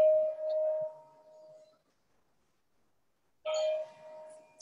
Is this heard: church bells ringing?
yes